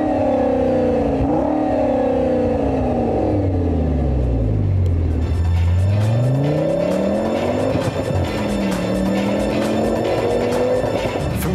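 Audi RS6 C6 wagon with a 5-liter TFSI V10 revs hard and accelerates, its engine note sweeping down through a gear change and climbing again in loud, continuous rising pulls.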